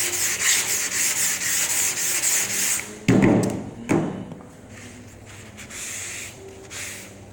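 Rhythmic back-and-forth scraping of a sanding block on a car body panel, close up, broken by a couple of thuds before the rubbing resumes more softly.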